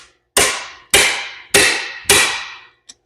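A hammer strikes the clutch cover of a Yamaha IT175K dirt bike four times in an even rhythm, each close, loud metallic knock ringing briefly before the next, followed by one small tap.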